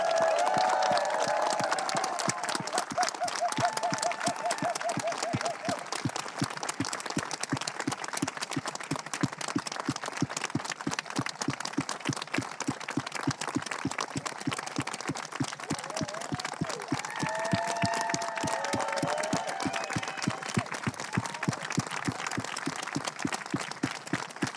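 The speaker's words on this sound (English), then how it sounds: "you can show your love by raising the clouds with massive applause and cheers" Outdoor crowd at a statue unveiling in Lewisham, London, applauding at length with steady, rhythmic clapping and occasional cheers and whoops, moderately distant and sustained throughout.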